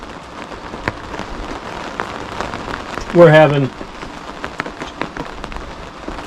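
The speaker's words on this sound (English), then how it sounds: "Right now, it's pouring the rain out." Heavy rain pours down outside on an Alaskan evening in early May, a dense steady patter on surfaces throughout, with a brief burst of speech partway through.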